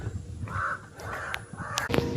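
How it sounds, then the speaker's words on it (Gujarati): Crows cawing outdoors at a farm, several harsh calls in quick succession, fairly close and clear over a faint background. "અહીં કાગડા બહુ છે"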